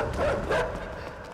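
A dog barks in the side-scrolling video game INSIDE, two clear yaps close together early on, set against a dense ambient game soundscape, with no talk over them.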